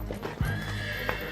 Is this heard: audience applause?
no